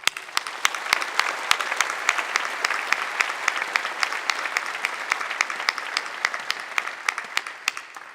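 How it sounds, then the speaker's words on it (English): Sustained audience applause at a law school keynote ceremony, dense even clapping that stays steady and fairly close for the whole stretch, with no voices over it. "we owe them a round of applause"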